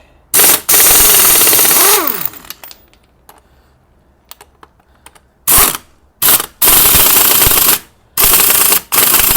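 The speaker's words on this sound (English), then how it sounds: "I got this Craftsman air wrench." A Craftsman air wrench, set to reverse, takes off a vehicle wheel. It fires in loud, close, rattling bursts: two at the start, then after a quiet gap several more short and longer blasts in quick succession.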